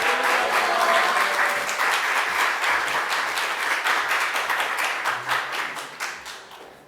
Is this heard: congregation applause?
yes